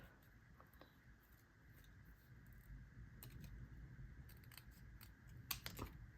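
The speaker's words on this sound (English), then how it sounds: "I'm just going to cut off a little bit of this white" Scissors snip through white card stock in a few quiet, close clicks and crisp cuts, clustered toward the end over a faint background hum.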